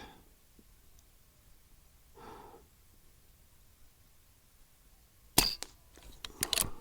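A Brocock Ranger XR .22 micro carbine air rifle fires on a range: after quiet with a soft breathy sound, a sharp crack lands near the end, followed by a few quick clicks and snaps of the action.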